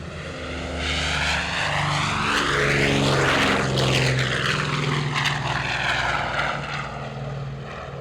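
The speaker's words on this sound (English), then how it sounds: "Flight's rolling. The A-26 Invader from the Canadian Warplane Heritage, flown by Jamie Bradley." Douglas A-26 Invader piston propeller aircraft of the Canadian Warplane Heritage flying past, a loud sustained engine drone that swells and falls with a clear Doppler pitch sweep, no talk.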